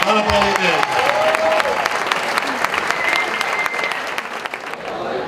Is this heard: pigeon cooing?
no